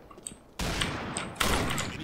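Gunfire in the video game Combat Arms, with two loud sudden broadband shots about a second apart, each ringing on as a sustained noisy blast after a fainter, quieter lead-in.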